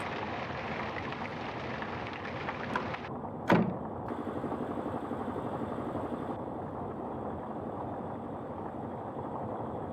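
Generator running in the video game Night Watch, a steady engine-like hum and rumble with a brief knock or clunk partway through, continuous and fairly close.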